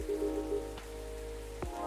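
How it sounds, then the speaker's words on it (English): Steady, faint rain patters continuously in the video game Coffee Talk, beneath soft sustained music tones with a couple of low thuds. "That's just the rain."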